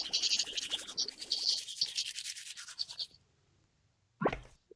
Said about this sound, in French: On va brosser.